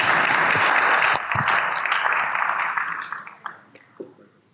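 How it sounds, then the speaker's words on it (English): Audience applause at a CEO summit panel session greets the moderator, full and steady at first, then thinning into a few scattered claps before fading out. "A round of applause as he comes."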